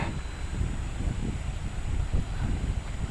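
Steady wind on a breezy day at Lake Poorarecup, a continuous low buffeting rumble against the microphone with no voices, constant in level throughout.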